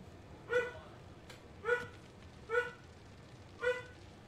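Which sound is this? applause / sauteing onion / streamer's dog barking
streamer's dog barking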